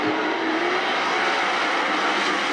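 World of Outlaws sprint cars in a heat race at Attica Raceway Park, roaring together in a loud, continuous blur of engine noise with a slowly rising pitch.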